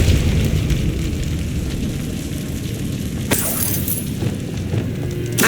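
A Depulso spell blast cast in the video game Hogwarts Legacy, a sudden bright burst of force around the middle of a continuous rumbling game soundscape, with a quick crackling tail.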